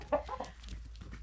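Chickens in a backyard coop give a few soft, quick clucks close by, a brief faint burst with no talking.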